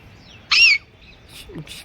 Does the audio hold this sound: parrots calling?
yes